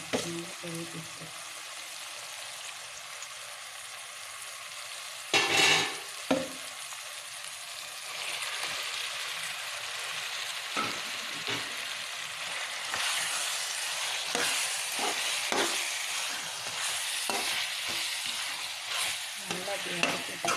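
Large pieces of chicken sautéing in a pan for a tomato chicken dish, giving a continuous soft sizzle broken by repeated stirring scrapes and clatters of the spoon against the pan.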